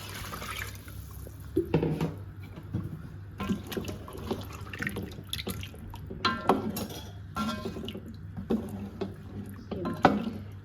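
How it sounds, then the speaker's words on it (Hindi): Water poured from a glass into a cooking pot of chicken and potatoes, about four glassfuls, gives irregular splashing bursts and trickles with brief pauses between pours, close and fairly loud, no talking. "अब इसमें डालूँगे पानी।"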